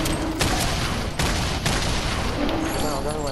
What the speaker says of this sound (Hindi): हवा में ग्रेनेड लॉन्चर बजाऊँगा भाई